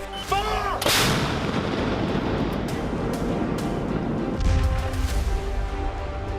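Artillery shells fire in a heavy, sustained barrage, with a sharp loud blast near the start followed by continuous rumbling detonations and a deep boom swelling near the end.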